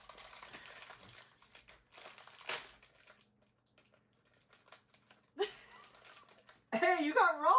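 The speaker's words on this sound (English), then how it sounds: "Yep, just rip it open." A Stranger Things Mystery Minis blind bag is torn open with a rustling, crinkling foil rip that comes in bursts, close and fairly loud, and a voice speaks near the end.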